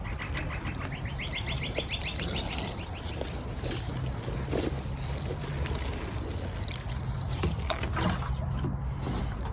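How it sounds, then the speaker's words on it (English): Water poured steadily from a watering can over blueberry and strawberry plants to soak in potassium sulphate fertiliser, a continuous splashing wash with no pauses and faint birdsong in the background. "we just water it in with the potassium sulphate"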